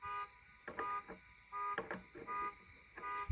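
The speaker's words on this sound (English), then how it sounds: "Sorry for the neighbor's car alarm." A car alarm blares in repeated on-off bursts of steady, buzzy tones, each lasting about half a second, with a few short clanks in between.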